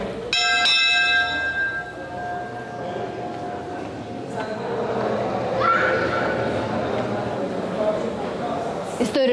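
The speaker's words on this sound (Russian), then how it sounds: "Когда-то его звон был сигналом к началу работы на сахарной плантации, а теперь в него звонят экскурсоводы." A plantation bell at a Havana rum museum rings out with a few clear metallic strikes that ring on and fade, followed by a busy room of voices and movement.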